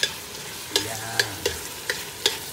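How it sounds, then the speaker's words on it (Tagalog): Pesto is stirred and fried in a pan, with a soft steady sizzle under several sharp clicks and scrapes of a utensil against the pan, spaced irregularly. "Kailangan po lutuin yung mabuti po yan, yung pesto"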